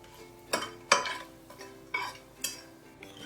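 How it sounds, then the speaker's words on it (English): Dried red chilli, star anise and broken cinnamon stick pieces toasting in hot oil, with a low steady sizzle and several sharp scraping stirs of a utensil against the pan at irregular intervals. "Just let that toast in the hot oil."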